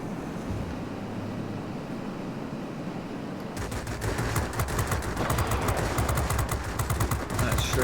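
Aircraft machine guns fire in World of Warplanes, a dense rattling burst that starts abruptly partway through over a steady engine and wind roar.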